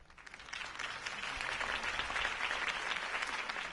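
A crowd applauds in a Batman Telltale Series video game scene at a Harvey Dent campaign rally, a sustained wash of many clapping hands heard at a distance and fairly faint.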